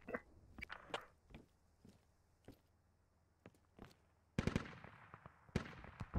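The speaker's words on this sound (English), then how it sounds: "I'm hearing some normal infantry shooting over in this direction" Faint, distant infantry gunfire in the video game Squad cracks out in scattered single shots and short bursts, with a louder, closer cluster of shots near the end.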